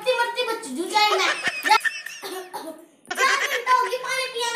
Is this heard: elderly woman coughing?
yes